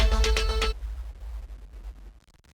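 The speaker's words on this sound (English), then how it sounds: "We just got a boom and a downer here and another boom here." A booming hit in a Bitwig electronic track: a loud, deep impact with a harmonic burst that fades within about a second into a low, rumbling tail.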